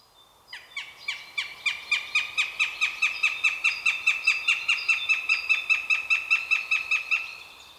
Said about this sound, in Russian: Поэтому вот крики хищников на вокзалах.